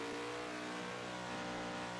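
A car engine revving hard in a racing video game, a steady loud droning motor with dense harmonics running throughout, no speech.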